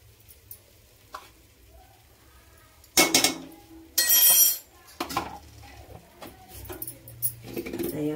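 Peanuts and cardamom stirred into melting jaggery in a pan, with sparse metallic scrapes and clanks of a spoon against the pan, some loud and close, between quiet gaps.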